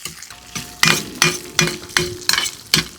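Small onions sauté in a pan while a spoon stirs them, several regular scraping clinks over a soft sizzle, close and clear with no voices.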